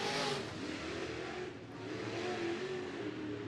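Race cars in a heat race at Bakersfield Speedway roar steadily at full throttle, a dense loud engine drone with a slight swell as they pass, no talk over it.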